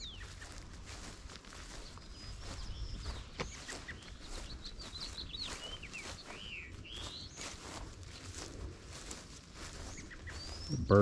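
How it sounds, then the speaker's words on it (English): Birds squawk and call repeatedly around a veterans' cemetery in Hoodview, Clackamas County, Oregon, with footsteps crunching steadily underneath as someone walks through, the calls moderately near and frequent. "there is a lot of birds here. I don't think they're happy I'm walking around, squawking a lot"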